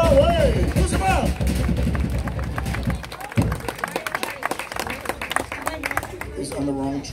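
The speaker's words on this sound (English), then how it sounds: "Come on, clap your hands!" An outdoor crowd at a Samoan tree-climbing and fire-making show claps in scattered bursts, with sharp hand claps rising through the second half. Someone shouts and voices cheer throughout.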